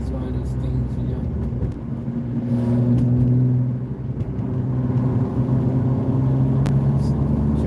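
A car engine rumbles and revs steadily while driving, with the drone swelling slightly midway, under a voice talking.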